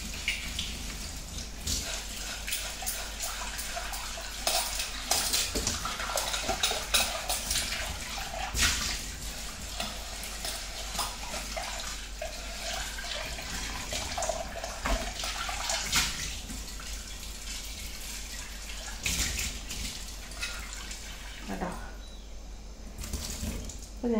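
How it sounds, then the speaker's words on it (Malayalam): A clay pot is washed under a running tap, with water pouring and splashing steadily throughout, broken by scrubbing and knocking sounds as the pot is handled. Faint talking can be heard beneath the water. "നല്ല മാതിരി കഴുകുക."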